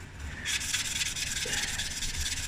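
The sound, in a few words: hand sanding scratches off a turned wooden cigarette holder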